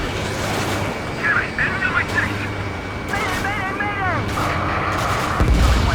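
Missile launches and explosions from the Ace Combat 7 flight combat game, booming artillery-like blasts and whooshing bursts layered over continuous jet-engine roar, with a radio voice speaking over the action.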